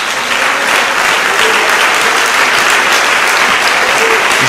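A church congregation breaks into loud, sustained applause during a worship service, a dense wall of clapping hands that fills the room without a break.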